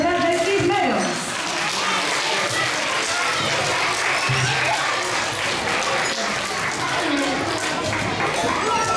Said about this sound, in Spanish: un fuerte aplauso para los marceros y las marceras de Cisneros